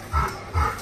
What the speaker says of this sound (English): Can you keep these dogs back?